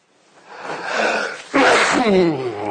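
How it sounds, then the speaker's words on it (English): A single loud sneeze bursts out after a building intake of breath, close to the listener. "Might be a few more of those sneezes coming."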